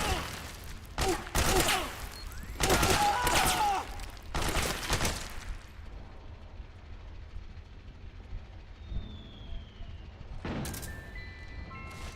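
Several bursts of gunfire crack out in quick succession close by, followed by a quieter stretch of low rumble and a final loud burst near the end.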